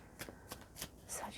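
A deck of tarot cards is shuffled in a quick, soft riffle of papery flicks, close but quiet, lasting only a moment.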